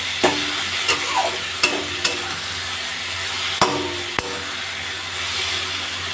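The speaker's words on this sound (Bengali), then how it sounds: "যতক্ষণ পর্যন্ত জল না শুকোবে আমি এইভাবেই এটা নাড়াচাড়া করবো" A spatula stirs lentil fritters and snake gourd in a pan as the water cooks off, with a low steady sizzle and scraping broken by several sharp knocks of the utensil against the pan, no voices.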